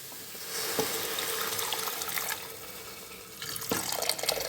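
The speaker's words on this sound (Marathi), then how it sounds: "आता आपण त्याच्यामध्ये गरम पाणी टाकू" Hot water poured into a pan of horse gram curry cooked with green chilli and onion, a continuous rushing splash that swells, eases, then surges again near the end.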